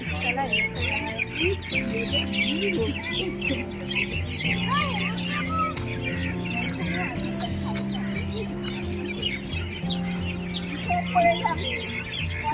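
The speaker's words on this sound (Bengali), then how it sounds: "পুরো গাছের মানে পাতা নয় ওইগুলো শুধু পাখি মানে ভর্তি গাছে ভর্তি দেখুন পাখি দাঁড়ান আওয়াজ শোনাই আপনাদের" A flock of birds packed into village trees chirps and twitters continuously, many overlapping calls, while a steady low droning tone hums underneath throughout.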